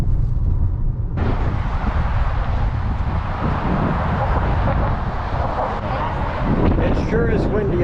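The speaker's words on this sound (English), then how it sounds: "It sure is windy up here." Strong wind roaring across the microphone at the Golden Gate Bridge vista point, a loud continuous buffeting rumble that fills the whole stretch, with gusts swelling near the end.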